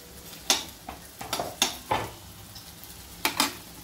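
Sliced onions frying in hot oil for a prawn curry, with soft background sizzle punctuated by several sharp stirring scrapes and clatters at an uneven rhythm, close and fairly quiet, with no talking.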